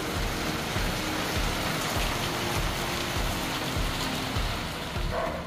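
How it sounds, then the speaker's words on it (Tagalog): Steady rain falls in a dense, even hiss of drops striking surfaces, continuous and moderately loud throughout with no voices. "Sana tumigil agad yung ano, ulan."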